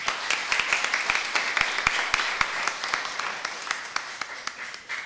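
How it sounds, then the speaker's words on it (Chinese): A congregation at a Taiwanese-language church service claps steadily, a light patter of applause from many hands that continues throughout, gradually thinning slightly toward the end. "我们鼓掌欢迎他"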